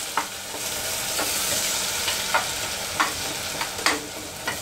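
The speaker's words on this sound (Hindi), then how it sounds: "हाई फ्लेम पे प्याज को पिंक होने तक फ्राई कर लेंगे।" Onions fry on high flame in a pan for green long bean bhaji, a loud continuous sizzle punctuated by spatula scrapes roughly once a second, with no talking.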